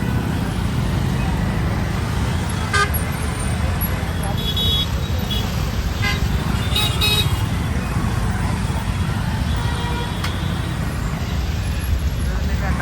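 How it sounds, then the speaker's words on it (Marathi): Steady road traffic rumble with a few short car horn toots scattered through, busy and congested, with faint voices mixed in. "जॅम ट्रॅफिक झालेले आहे"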